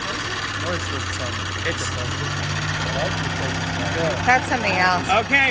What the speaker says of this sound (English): No, that's the compressor.